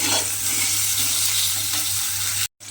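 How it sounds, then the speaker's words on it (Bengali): Steady oily sizzle of eggplant frying until browned, with a faint low hum underneath, broken by a brief dropout near the end; no talking. "বেগুনগুলোকে একটু লাল লাল করে ভেজে নেব"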